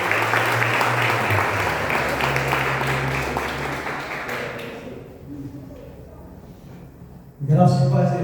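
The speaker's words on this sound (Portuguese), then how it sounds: "Uma salva de palmas para Jesus." Church congregation applauding for several seconds, a dense steady patter of clapping with a low murmur underneath, fading out before a voice begins speaking near the end.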